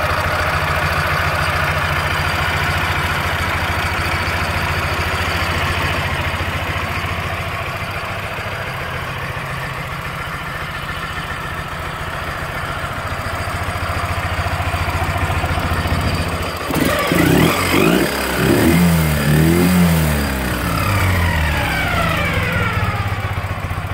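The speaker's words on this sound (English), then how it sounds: "it does sound like there's a little bit extra clatter, which is probably the Russian gears." A 2006 Ural Troyka single-wheel-drive sidecar motorcycle engine idles steadily with a slight gear clatter, then revs up in several loud, close bursts, with no speech.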